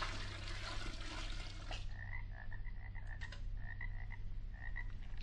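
Comedy record effect of poured swamp water followed by a frog croaking, a gurgling splash giving way to a series of short repeated croaks over a low steady hum, no voices.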